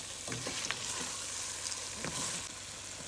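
White eddo with seasonings is stirred in a cooking pot over a quiet, steady simmer hiss, with a few light clinks and scrapes from the spoon near the start and again around the middle.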